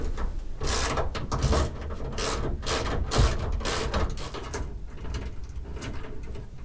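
Ratcheting and metallic clicking of a wrench loosening 10mm tail light bolts on a Toyota Tacoma, with short bursts of mechanical turning and a few sharper knocks, close and fairly steady, no talking.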